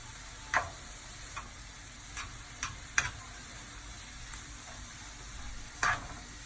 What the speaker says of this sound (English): Maybe it's time to also stir the apple mixture.